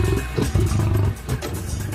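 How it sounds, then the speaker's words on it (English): A massive prehistoric American lion gives a deep, loud roar, close up and alone, with rough low rumbling pulses that swell and ease over about two seconds. "And the massive American lion."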